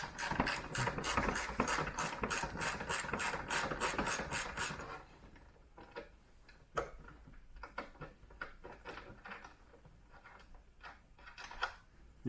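Ratchet with a 10mm socket rapidly clicking as a long self-tapping bolt is undone behind the front grille of a new Land Rover Defender, a dense close burst then slower scattered clicks and taps.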